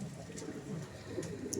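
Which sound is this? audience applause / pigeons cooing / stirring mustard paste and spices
pigeons cooing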